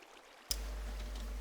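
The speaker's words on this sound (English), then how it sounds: "See the water's flowing evenly in the center." Water in a farm channel starts up suddenly and then runs as a steady, even rush with a low, constant rumble, quite close and with no voices over it.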